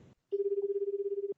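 A cell phone ringtone in the 428: Shibuya Scramble video game, one steady pulsing electronic tone lasting about a second, clear and alone after a brief bit of sound.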